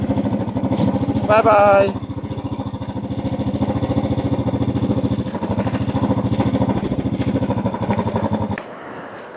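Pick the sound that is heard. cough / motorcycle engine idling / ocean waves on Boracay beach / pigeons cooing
motorcycle engine idling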